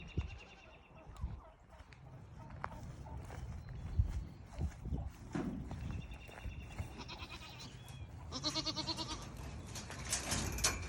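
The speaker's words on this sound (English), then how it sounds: "So we have lots of goats in here." Goats on a farm bleat at a modest distance, with scattered shuffling and rustling in the dirt. A louder cluster of bleats comes near the end.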